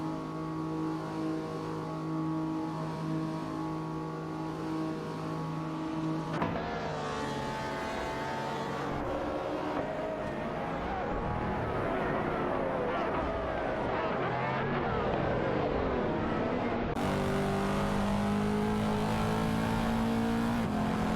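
Race car engines drone continuously in an AI racing video game with supercars such as a Lamborghini Reventon, layered tones shifting and revving as cars compete, with no break for the whole stretch.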